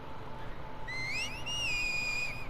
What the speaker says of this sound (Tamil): விசில்லே பேசிக்கிறாங்க போல